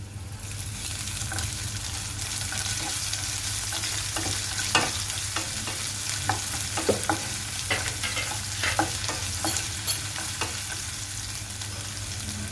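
Sliced onions frying with ginger garlic paste for tomato rice make a continuous moderate sizzle, broken by repeated scraping clicks of a spatula stirring the pan.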